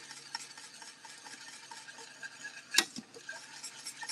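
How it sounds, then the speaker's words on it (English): Whisking banana pudding in a pot over lowered heat, a soft continuous scraping stir with a quick metallic clink of the whisk against the pot partway through. "Keep whisking while you add it in"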